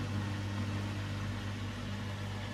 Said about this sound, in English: So we're all pumped out, have another little spin